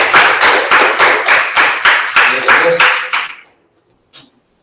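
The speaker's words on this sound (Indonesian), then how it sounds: "tepuk tangan untuk hasil kita hari ini" Students in a classroom applaud after a CPU-assembly practice lesson, with loud rhythmic clapping in a steady beat that stops abruptly, followed by one faint clap.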